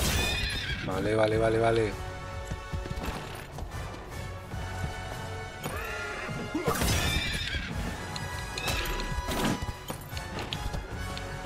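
A horse neighs and whinnies repeatedly with clip-clopping hooves on a battlefield in the Prince of Persia: The Lost Crown video game, loud and close amid combat clashes and game music, with brief speech.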